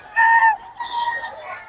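A rooster crows close and loud at a poultry market in Bocaue, Bulacan, a short harmonic call followed by a lower, wavering tail, with no talk over it.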